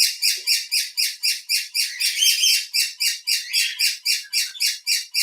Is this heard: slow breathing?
no